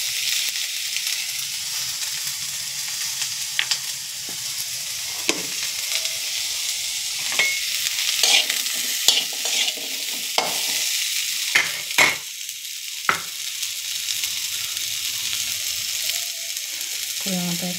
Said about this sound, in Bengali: একটু হিং দিই আর কুমড়োগুলো ছেড়ে দিই।